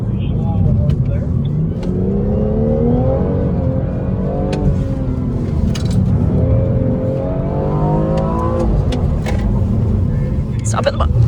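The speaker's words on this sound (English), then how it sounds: "Princeton carrying a pretty good charge of power through the slalom over there." A BMW engine revs and pulls hard through a slalom on a driving course, steady loud motor drone with rising and falling pitch sweeps as the car accelerates between turns, with speech over it.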